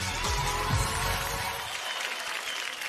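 Studio audience at an Indian singing talent show breaking into loud applause, dense clapping that stays strong and then thins slightly toward the end, with a voice briefly audible underneath.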